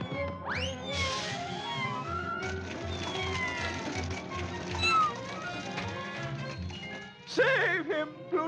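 Cartoon cat yowling and meowing in distress, with repeated wavering cries and caterwauls over busy orchestral scoring and sound effects, ending in a sharp burst of meows.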